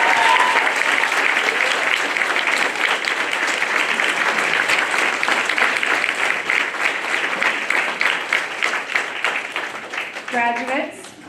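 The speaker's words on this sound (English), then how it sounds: "Let's give them a round of applause." A crowd at a graduation ceremony gives the graduates loud, sustained applause that lasts the whole stretch. A few cheers and voices rise above it, and the clapping fades slightly near the end.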